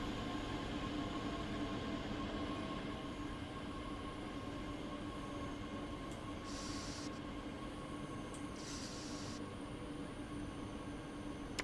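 Trains in the Train Sim World 2 rush-hour Dresden line make a steady rumble of rolling wheels and track noise, with two brief higher hisses near the end and no talk.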